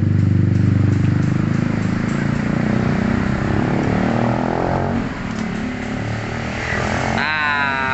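Yamaha Aerox 155 scooter fitted with an F2 Racing Celong long exhaust with dB killer, engine running steadily with a loud, deep tone throughout, easing slightly near the end before a brief higher whine.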